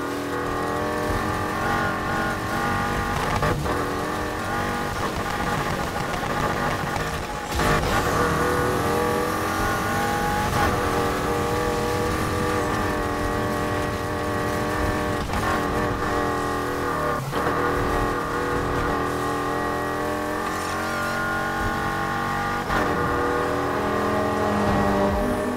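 Subaru engine in the racing game Need for Speed Heat, a loud sustained droning roar with revving shifts and brief dips as gears change, continuous and close with no voices.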